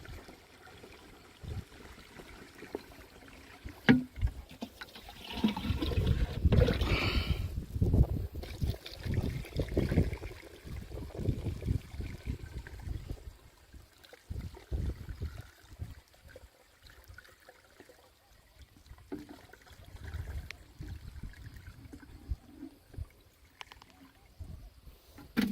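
Water pours and trickles into a 15-litre sprayer pump tank in uneven surges, louder for a stretch early on, then settling into quieter splashing and dribbling with occasional knocks.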